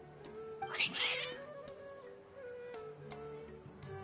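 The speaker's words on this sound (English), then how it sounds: "Your cats seem pretty worked up." Cats in the video game Genshin Impact let out a loud, drawn-out agitated meow, followed by softer game sounds and light clicks.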